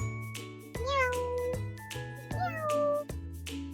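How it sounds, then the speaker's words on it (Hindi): A small cat meows repeatedly in a mountain resort kitchen, with two clear drawn-out meows and a few shorter calls, close and fairly loud over a faint steady background hum. "और ये बिल्ली मुझे पिछली बार भी मिली थी, ये छोटी सी थी।"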